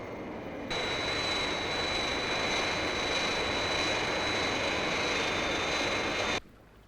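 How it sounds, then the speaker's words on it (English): The Fireflash jet aircraft taking off in a Thunderbirds episode, a steady, loud, dense engine roar with a high whine that holds evenly for several seconds, then cuts off abruptly, with no talk. "Scott has made a good takeoff, Father, in the Fireflash"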